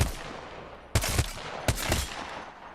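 Two loud Scout rifle shots from Apex Legends, spaced under a second apart, each a sharp crack with a brief echoing tail over a low steady game-ambience bed.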